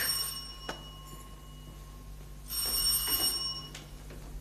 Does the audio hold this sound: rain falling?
no